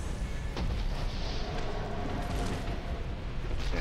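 Explosions in the video game Mass Effect 3, a dense continuous rumble of blasts and booming impacts filling the scene, loud and steady with occasional sharper hits, no talk.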